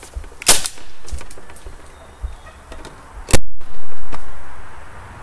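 An air gun fires pellets in a few sharp, loud cracks, one early and one near the end, separated by quieter handling noise and faint background hiss.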